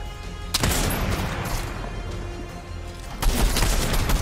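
Gunfire in the video game Fortnite, a sharp loud shot opening into sustained crackling fire and rumble, then another heavy blast near the end, close and dense with no talk.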